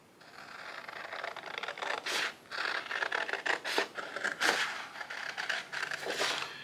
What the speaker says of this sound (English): the joys of watching other people cut out paper are limited